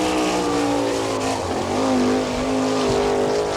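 A sprint car, number 2 with a Maxim chassis, runs a qualifying lap at Attica, Ohio, its engine holding a loud, steady, high-pitched roar that swells and dips slightly as it moves around the track, with no talk over it.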